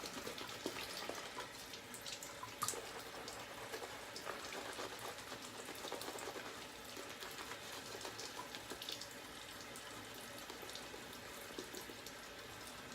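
Water trickles and splashes into a bowl of CBL shaving soap, a faint continuous wet patter and dribble close by, steady throughout with no talk.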